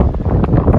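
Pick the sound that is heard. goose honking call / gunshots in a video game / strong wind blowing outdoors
strong wind blowing outdoors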